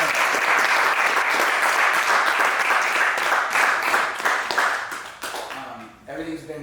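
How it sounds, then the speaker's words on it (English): Loud, sustained applause from a seated audience at a business summit, dense steady clapping for the event organizer that thins and tails off at the end. "I do want to give a round of applause for Donta putting all of this together with his team"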